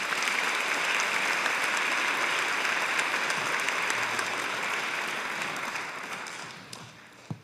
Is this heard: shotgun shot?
no